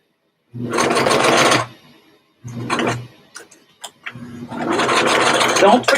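A sewing machine stitches down one side of a homemade fabric face mask, running in three separate bursts with short pauses between them, close and fairly loud.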